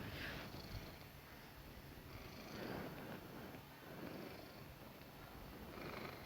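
A house cat purrs softly and steadily nearby, a continuous low rumbling purr with gentle breathing cycles, faint and quiet, with no talking.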